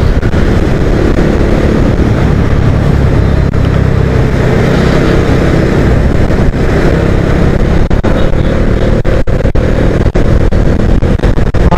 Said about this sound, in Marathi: आपल्या बाईक राईडचा आनंद घेता येईल.